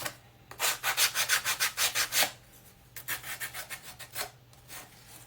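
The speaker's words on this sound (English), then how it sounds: "something I will do is kind of go around and sand around the edges" Hand sanding along the edges and corners of a wooden piece to give it a weathered, worn look: two runs of steady rhythmic rasping strokes, close and clear, separated by a brief pause, with no talking.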